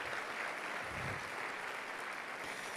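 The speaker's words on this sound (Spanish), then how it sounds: "Dale un fuerte aplauso al Señor." A church congregation applauds the Lord during a worship service, a steady dense wash of clapping heard alone at a moderate distance throughout.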